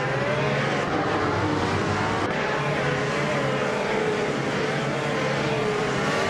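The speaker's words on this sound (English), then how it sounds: "Flanky Frankie is driving a Honda IndyCar, currently holding 4th place" A Honda IndyCar engine in a racing video game drones loudly and steadily throughout, with overlapping engine tones from nearby cars and a faint whoosh of passing traffic, no voices.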